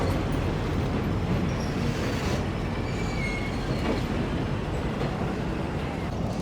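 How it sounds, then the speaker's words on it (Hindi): A train arrives on the Death Railway in Thailand with a dense, continuous rumble and hiss of wheels on track, steady and fairly close for the whole stretch, with no talking over it. "मैं आया और ट्रेन आ गई।"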